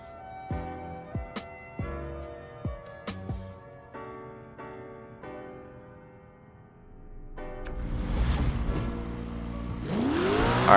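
Lamborghini Aventador fitted with a Koenigsegg 1071 hp V8 hybrid engine in NFS Heat, first sharp revving bursts and gear changes, then a rising, loud roar as the car accelerates away.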